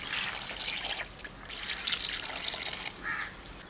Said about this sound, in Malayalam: 2 കപ്പ് വെള്ളം ഒഴിച്ച് കൊടുക്കുക.